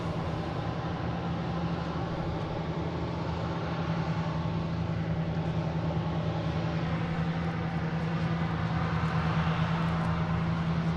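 A JetBlue Airbus A220 jet at Boston Logan gives off a steady, fairly loud engine drone with a constant low hum, unchanging throughout, with no talking.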